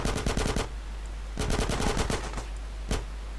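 Several rapid bursts of automatic gunfire from GTA San Andreas The Definitive Edition, separated by short pauses, with a final single shot near the end.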